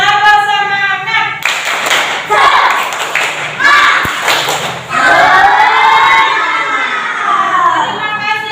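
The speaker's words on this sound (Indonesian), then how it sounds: "Terima kasih untuk semua tepuk tangan." Classroom applause from a group of pupils, clapping bursts with children's shouts and cheers, loud and close, followed by an adult voice speaking.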